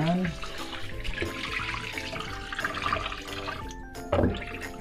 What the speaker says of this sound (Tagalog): Hugasan na po natin ito na parang nagsasaing na po tayo.